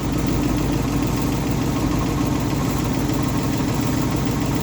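Old small block Ford V8 with almost 200,000 miles idling just after a cold start, a steady loud low rumble with a faint knock, running alone without talk.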